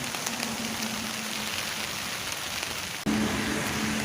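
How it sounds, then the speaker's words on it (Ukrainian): Steady autumn rain patters on surfaces outdoors, a dense, even hiss that continues throughout, with a faint low hum and no talk. "А давай ну послухаємо звук дощу."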